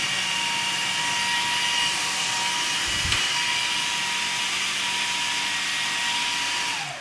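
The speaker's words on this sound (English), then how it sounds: "let's give that food processor a bit of a go here" A food processor blends chocolate mousse with a continuous loud whirring motor drone that holds steady throughout and winds down at the very end, with no talking.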